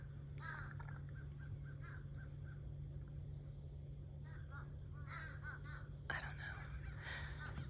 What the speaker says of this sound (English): And there are these other birds again.